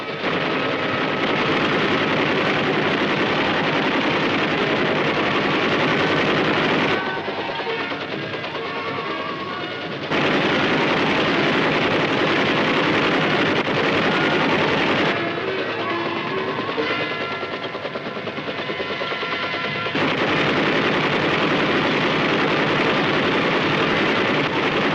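Machine gun fire from armed Huey helicopter gunships over a firing range, dense continuous loud rattling and roar in long stretches broken by slightly quieter gaps, with no speech.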